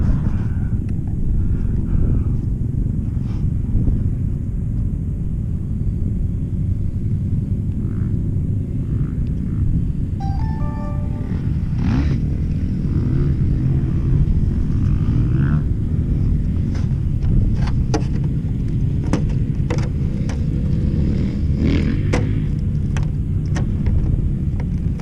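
A gas-powered Kraken Vekta 5 RC trophy truck runs in the desert at Ocotillo Wells, its small engine droning steadily and loudly throughout with a continuous rumbling buzz, plus some scattered clicks and rattles later on.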